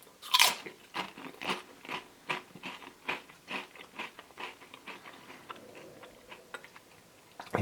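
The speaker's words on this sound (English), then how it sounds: "Let's go for a taste test of the chocolatey bit all by itself." Close, crisp crunching of a Ferrero Kinder Cards chocolate wafer being bitten and chewed, a dozen or so sharp crackly bites and chews in a steady rhythm with no talking.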